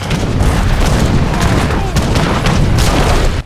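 Culverin cannon fire in a real-time strategy game during a town assault, a dense, loud stream of overlapping booms and crackling shots filling the whole moment without pause.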